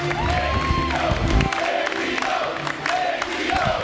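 Wrestling fans at a 2005 Andy Douglas vs. Mike Kruel match cheer and shout together, a loud sustained crowd roar with rising whoops throughout.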